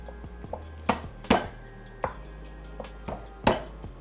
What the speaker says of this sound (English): So all you have to do is just smash the garlic.